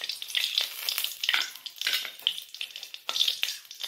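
Mustard seeds and curry leaves crackle and sizzle in hot oil, with a steady frying hiss broken by sharp pops and small bursts.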